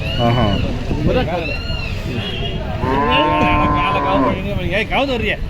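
Cattle at the Poigai cattle market moo loudly and repeatedly, several long overlapping calls close by, with people talking in the busy background.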